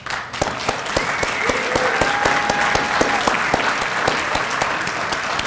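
An awards event audience applauds steadily, a dense wash of many hands clapping at an even pace, loud and close with faint crowd murmur underneath and no clear speech.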